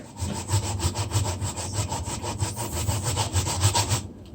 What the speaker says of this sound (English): I grate the sweet potato, the cocoa, the yellow yam